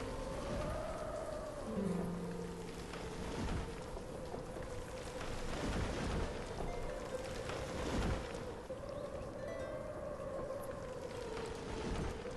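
A rain storm in the video game Banished, steady heavy rain hiss with low rumbling and a wavering wind-like tone running continuously throughout, fairly loud and alone.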